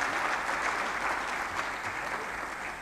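Management summit audience in Lahore bursting into loud, sustained applause, a dense steady wash of many hands clapping without pause.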